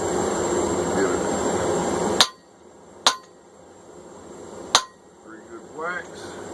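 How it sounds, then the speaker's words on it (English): Hammer striking a punch into hot steel by hand while forging a straight peen hammer: three sharp, ringing metal strikes spaced apart after a stretch of blower hum, with voices talking in between. "We're going to start punching this hole."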